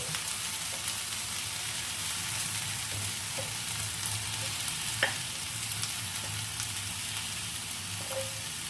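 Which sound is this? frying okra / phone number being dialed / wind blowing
frying okra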